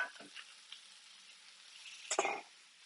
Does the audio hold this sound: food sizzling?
yes